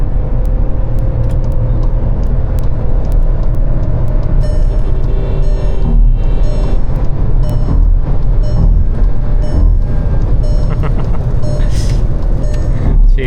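Skoda Kushaq 1.0 TSI with 8-speed automatic in manual mode, engine pulled hard toward 6000 RPM, a loud continuous drone filling the cabin with no break for about thirteen seconds.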